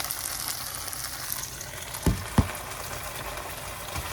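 Minced garlic sizzles and spits in a hot pan while being cooked for tomatillo salsa verde, a close, steady frying hiss broken by two sharp knocks of a utensil against the pan.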